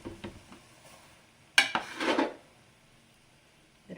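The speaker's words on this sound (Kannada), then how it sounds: "ಉಪ್ಪಿಟ್ಟು ರವೆ ನಾನು ಒಂದು 6 ಕಪ್ ಹಾಕ್ಕೊತೀನಿ." Medium rava (semolina) being measured by the cup into a kitchen vessel for instant rava idli: a sharp metal clatter of a cup against the pot, followed by a short pouring rustle, then near silence.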